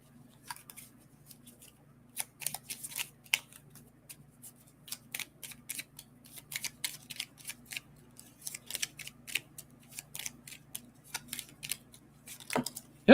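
Playing cards shuffled by hand from a small group, giving rapid crisp riffling and flicking bursts that come in irregular clusters, close and fairly quiet, with no talking.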